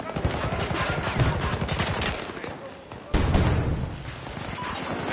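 A turret fires in Battlefield 2042: a rapid, continuous stream of loud gunfire with a brief dip and a heavier renewed burst midway, dense and close, with some voices mixed in.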